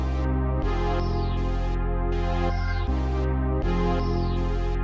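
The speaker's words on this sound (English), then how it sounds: "But I threw a filter mini by Arturia on it, and I went with this preset." Synth chord pad run through an Arturia Filter Mini preset, a dark trap-style sample with a pulsing, sweeping filter that opens and closes on each sustained chord, loud and continuous without speech.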